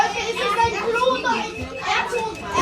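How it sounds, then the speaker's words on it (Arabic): Children shout and chatter loudly aboard a Vienna metro train, an overlapping jumble of young voices close by with rising squeals. "العيال عاملة دوشة جامد قوي."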